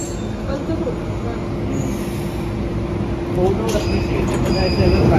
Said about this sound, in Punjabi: ਹੈ ਮਿੱਤਰੋ ਮੈਟਰੋ ਆ ਗਈ ਹੁਣ ਮੈਟਰੋ ਦੇ ਵਿੱਚ ਚੜਾਂਗੇ